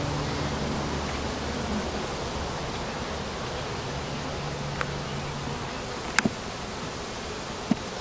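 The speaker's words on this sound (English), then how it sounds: "There's a few bees on this frame." Honey bees drone on a hive frame in a steady, even buzz close by, with a few sharp clicks or taps near the end.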